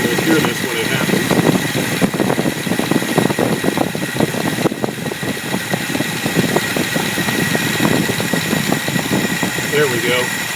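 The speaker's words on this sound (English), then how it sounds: "turn the first one clockwise until we feel the engine start to stumble a little bit" Studebaker engine with a four-barrel carburetor idling as the idle mixture screw is turned, a continuous close, rough idle with uneven pulsing that hints at stumbling, a voice talking over it.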